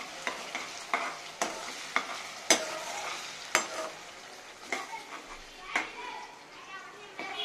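A spoon repeatedly scrapes and stirs paste into a tomato gravy in a pan, sharp clinks at a steady pace over a soft background of frying, with children's voices faintly in the room.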